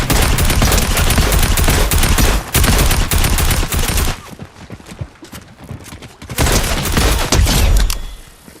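Video game gunfire in Polar Blizzard crackles as dense, loud rapid bursts, a near-continuous fusillade that breaks briefly into scattered shots before resuming heavily.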